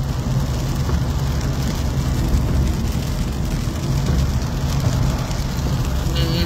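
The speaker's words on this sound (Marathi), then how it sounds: "पूर्णतः हा रस्ता पाऊस सुरू आहे, रस्त्यावरती पाणी साचलेलं आहे" Steady rain pours onto a waterlogged road, making a dense, continuous hiss that holds at an even level throughout, with no distinct drops or pauses.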